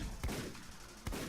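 Cherry bombs going off in the shooter game Paranautical Activity: two brief, muffled explosive bursts about a second apart over steady game background noise.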